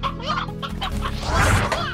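A chicken clucks in the video game Slime Rancher, a short run of busy clucks over a dense, steady game background.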